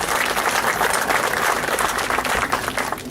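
Dense, steady applause from an audience in Weyburn honouring a provincial minister at a hospital foundation donation event, a continuous wash of many hands clapping at full volume throughout.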